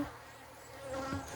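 Honey bees working comb in a hive give a faint, continuous buzzing drone heard up close at low volume, with no speech.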